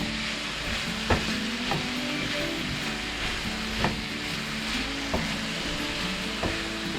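Mushrooms and onions seasoned with salt, pepper and garlic sizzle steadily on a Pit Boss griddle while caramelizing, a continuous close crackle with a few soft clicks of stirring.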